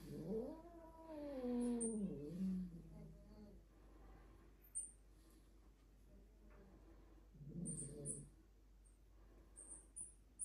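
A cat caterwauls in a long, wavering yowl, then gives a shorter second cry a few seconds later. Both are quiet and heard alone over a faint background.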